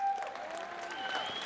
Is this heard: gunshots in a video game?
no